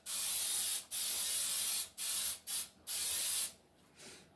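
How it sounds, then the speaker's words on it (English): A baking spray can with flour hisses in five steady bursts, the last one short and softer, close to the listener with quiet gaps between. "I'm just going to spray it"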